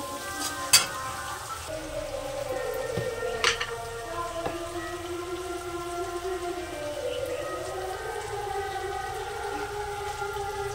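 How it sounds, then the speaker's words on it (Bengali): Spices sautéing in a pan with tomato, green chilli and salt, a soft continuous sizzle broken by a couple of sharp clicks of a utensil against the pan, with no talk. "এবার মশলাটাকে একটু কষে নেব।"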